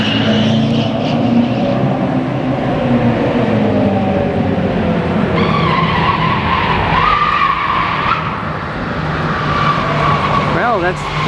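At the Detroit auto show, a car driven aggressively sends out long tire skids and squeals over a roaring engine, loud and close, while people talk underneath.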